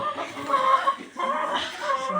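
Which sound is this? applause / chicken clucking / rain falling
chicken clucking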